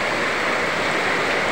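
Floodwater rushing through a barangay in Cag-abaca during a November 2023 flood, a steady, loud, broadband roar of moving water that continues unbroken throughout with no voices.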